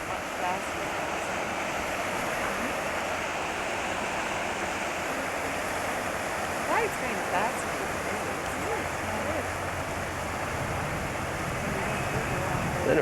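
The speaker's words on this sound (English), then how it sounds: "Water is running up the river. Much faster." River water in Nova Scotia rushes steadily toward rapids, a continuous broad wash of flowing water that stays even and fairly close throughout, with no voices.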